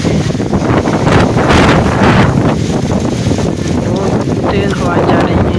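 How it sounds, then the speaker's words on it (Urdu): Strong evening wind gusts hard through trees ahead of a thunderstorm, a loud, constant roaring rush that buffets the microphone and swells and eases throughout. "بہت تیز ہوائیں چل رہی ہیں"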